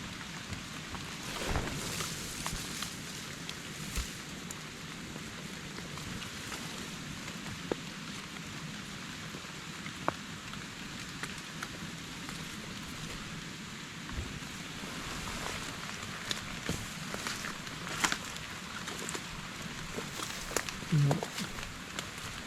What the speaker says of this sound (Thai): ฝนมันตกบ่หยุดครับเมื่อเนี่ย ตกคักตกเนี่ย